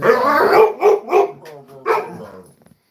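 A pet dog barks about four times in quick succession, loud and close, with the barks tapering into a softer whimper at the end.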